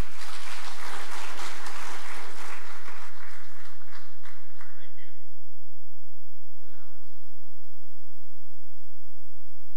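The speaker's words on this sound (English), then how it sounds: "Can we give them one more round of applause, please?" An audience applauds at a conference closing ceremony in a large hall, loud dense clapping for about three seconds that tapers off into scattered claps and quiet room noise.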